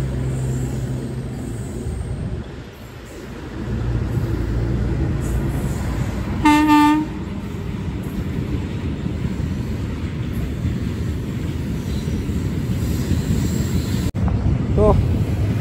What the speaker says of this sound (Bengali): দেখো নিচে ট্রেন যাচ্ছে, ওপর দিয়ে আমরা